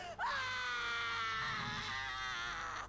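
A woman in Far Cry Primal lets out one long, loud, sustained scream of anguish that holds steady for nearly three seconds with no talk over it.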